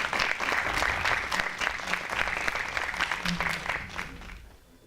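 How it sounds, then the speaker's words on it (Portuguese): Audience applause at a DivulgaTerra 2018 presentation as speaker Diego Camelo Moreira is introduced, steady clapping that fades out near the end, with some voices underneath. "Um aplauso."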